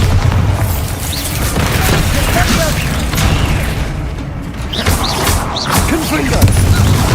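Bombarda explosion spells in Hogwarts Legacy, a string of booming magical blasts and crashing impacts over a dense rumbling game soundscape, with a voice calling out spells among them.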